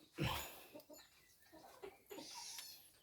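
A chicken clucks and squawks close by on a rural farm, a loud opening cry followed by several shorter, scattered clucks and chirps.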